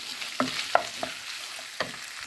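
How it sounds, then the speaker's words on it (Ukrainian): Chicken sizzles quietly in a pan while a utensil scrapes and clacks against it a few times, close up, with no voices. "І смажимо."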